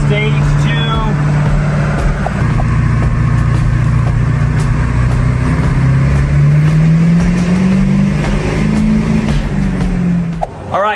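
A 7.3 Powerstroke diesel truck engine fitted with an S&B Stage 2 air filter revs loudly on a dyno, its pitch climbing steadily in a long sustained pull before dropping off abruptly at the end.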